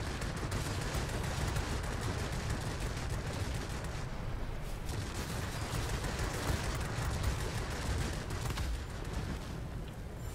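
Continuous loud aircraft machine-gun fire in World of Warplanes, a dense unbroken rattle of rapid shots with rumbling bursts running throughout and no talking.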